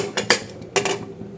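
A metal lid set down on a pot of rice as it comes to the boil, giving two sharp clanks close by, then a softer pair of metallic knocks before things go quiet.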